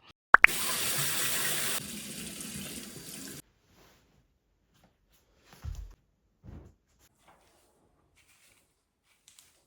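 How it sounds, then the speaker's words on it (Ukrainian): Water from a shower pours in a loud, steady hiss for about three seconds, then cuts off, leaving near silence broken only by a couple of faint knocks. "я сходила в душ"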